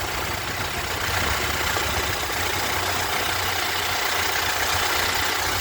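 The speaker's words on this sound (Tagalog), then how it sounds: "Wala nang ingay yung kanyang makina." A Toyota Hiace Grandia van's engine idles with a steady, even hum and a faint low rumble beneath it, unchanging throughout and heard alone.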